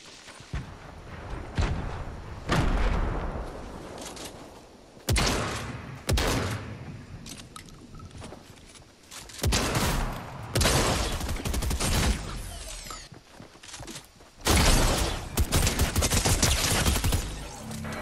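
Shotgun fire in the video game Fortnite comes in several loud, separate bursts of blasts and clatter, with quieter gaps between them.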